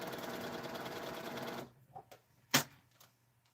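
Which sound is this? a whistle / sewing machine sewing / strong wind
sewing machine sewing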